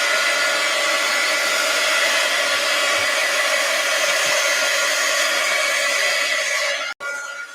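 A hair dryer blows steadily on glue spread across an art journal page, a loud continuous whir with an even hiss that cuts off abruptly near the end, with no talking.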